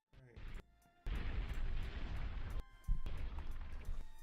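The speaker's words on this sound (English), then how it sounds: "Explosions are very intense today." Loud booming explosions burst in across a few seconds, with broad rumbling blasts and a brief gap between them, close and dominant with no talking.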